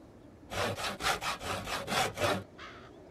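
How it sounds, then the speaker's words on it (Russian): Hand saw cutting through wood in Project Zomboid, about six loud, rhythmic back-and-forth strokes close up, followed by a short softer scrape at the end. "Я совсем забыл заготовить побольше досок, придется малость допилить."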